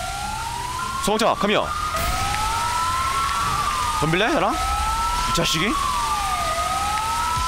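A fire truck siren in the video game GTA V wails in rising and falling sweeps, loud and continuous, while someone talks over it in Korean with bursts of excited shouting.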